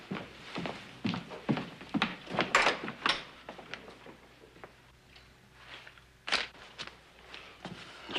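Knocks and thumps at the front door of a ranch house in an old Western setting, several sharp raps mid-distance scattered over quiet room tone, with one louder knock near the end.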